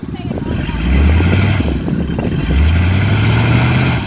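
A vehicle stuck in a mud puddle revs its engine hard in two long rising surges, loud and close, while people talk over it.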